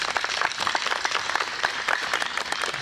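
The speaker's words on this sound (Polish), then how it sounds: "Brawa i dzięki." An outdoor audience at a military vehicle show claps briskly in thanks, a dense, even patter of many hands without any break.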